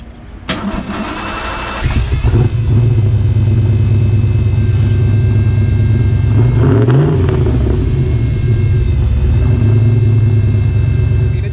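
A turbocharged Ford Fox with Borla 3-inch mufflers starts up with a sharp crank and then settles into a loud, deep, steady idle, with a brief blip of revs near the middle.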